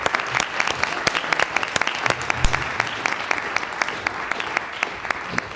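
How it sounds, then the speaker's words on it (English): An audience at a religion panel discussion applauds its speakers with brisk, sharp individual claps that hold steady and fairly close throughout, no voices over them. "I want to make sure everyone gives all of our speakers a big round of applause"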